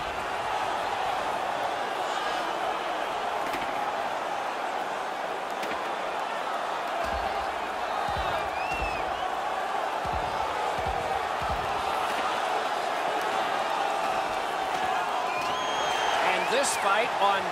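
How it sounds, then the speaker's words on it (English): A hockey arena crowd in the NHL 17 video game roars steadily throughout, with scattered cheers and thumps rising under a commentator's voice. "This will absolutely energize this great crowd."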